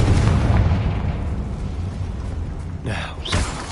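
Explosive blast from the Confringo spell in a Harry Potter video game, a dense low rumble throughout with two sharper bursts near the end, loud and close.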